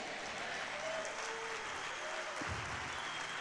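Congregation at a church conference breaks into loud, continuous applause with crowd noise, a thick steady clapping roar filling the whole short stretch, with a faint voice or tone underneath.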